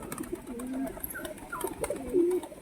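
Pigeons give soft, repeated coos while being released from a home in Gangnapur, West Bengal. The calls are close, rise and fall in short phrases, and carry over a quiet background.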